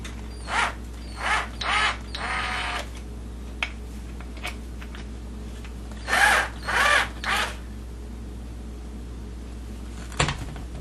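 A power drill driving screws into the speaker panel of a MAME arcade cabinet, several short whirring bursts with pauses between, close and loud against a quiet room, then a sharp knock near the end.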